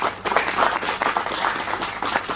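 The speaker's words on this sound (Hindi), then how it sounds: "एक बहुत जोरदार तालियों से आप अपने स्वयं का भी स्वागत करें" Audience claps loudly and vigorously in a continuous, dense burst of applause, close and steady from start to finish.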